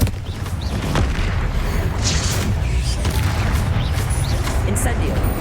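A Confringo spell explosion booms in Hogwarts Legacy, a loud, sustained blast with rumbling, crackling bursts running throughout, close and dense, with no gaps.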